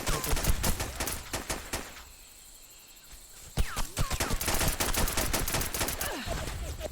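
Gunfire in SOCOM 2 online multiplayer: loud bursts of automatic rifle fire, a brief quieter lull with faint ambient insects, then rapid sharp shots resuming and continuing to the end.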